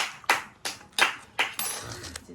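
About half a dozen close, crisp hand claps land in an uneven rhythm, with little else around them.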